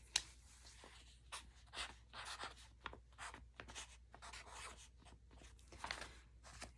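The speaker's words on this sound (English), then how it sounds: "Let's write that down." Pen or pencil writing out a fraction division problem on paper in a Montessori elementary math lesson, quiet scratchy strokes in short irregular bursts, close and soft, with no talking.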